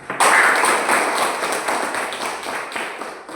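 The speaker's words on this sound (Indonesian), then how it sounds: "Tepuk tangan buat kalian" Elementary schoolchildren at an Indonesian primary school clap together, a burst of many small hands that starts abruptly, stays lively and uneven for a few seconds, then thins out, fairly close.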